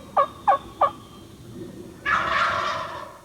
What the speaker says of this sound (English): These turkeys are close.